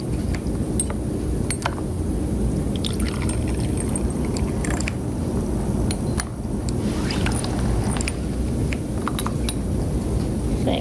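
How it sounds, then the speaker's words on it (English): Hydrogen peroxide poured into glass test tubes in a lab catalase experiment, a continuous trickle of liquid with occasional light glassy clinks, close and steady. "5 milliliters of hydrogen peroxide into each of our test tubes"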